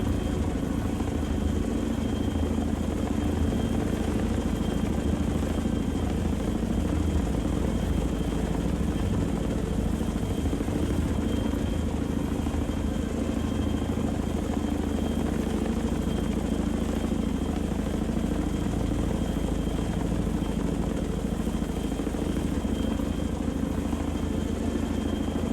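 Chinook helicopter engines in the naval video game Sea Power: a loud, constant rotor and turbine drone with a steady low thrum that keeps going without a break, and no talking.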